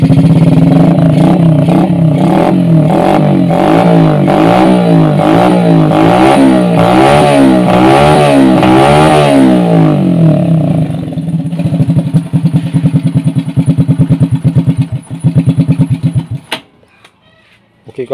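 A Suzuki Supra Fit motorcycle with a hard-starting fault from too-tight valve clearance runs after a kick-start without throttle, its engine chugging loudly and steadily up close before dying down near the end.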